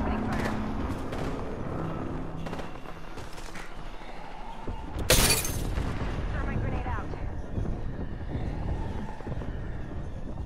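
Gibraltar's bombardment artillery strike in Apex Legends lands as a sudden loud blast midway through. It is surrounded by softer scattered gunfire and rumbling battle noise, and game voices speak over it.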